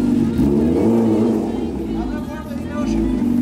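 Honda Hornet motorcycle engine idling and revving while the bike is eased into a house, a loud continuous rumble with people talking over it.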